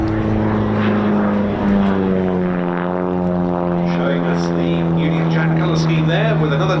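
A Pitts Special S1, a single-seat aerobatic biplane, flies a display at an airshow with a loud, continuous propeller-engine drone that shifts in pitch as it passes, under a commentator's voice.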